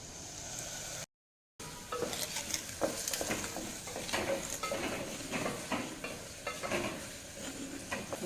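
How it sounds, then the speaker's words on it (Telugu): Ginger paste fries in hot oil for a mutton curry with a steady sizzle, while a spoon stirs and scrapes the pan in irregular knocks. It is close-up and there is no speech, with a brief silent gap near the start. "స్మెల్ వచ్చేదాకా వేగాలండి అల్లం పేస్ట్ వేసి"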